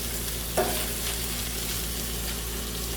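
Onions dropped onto a hot griddle for loose meat burgers, giving a steady, close, broadband sizzle with a brief clatter near the start and a constant hum underneath.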